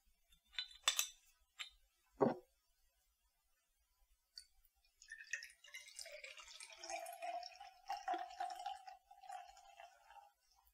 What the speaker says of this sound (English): Let's see how this one pours.